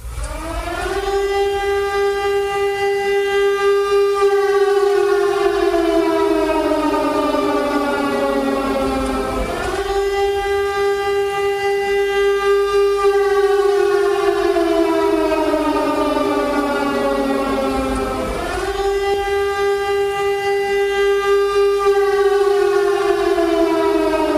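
Ukrainian civil defense air raid siren wailing loud and continuous, its pitch sweeping up and down in long cycles roughly every nine to ten seconds, with no speech over it.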